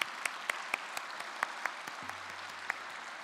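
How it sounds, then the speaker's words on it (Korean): A church congregation gives steady, moderately loud applause during a New Year's Eve service, with a few sharper claps standing out and a low hum beneath. "영광의 박수를 드리시는 이 시간이 되시기를 소망합니다"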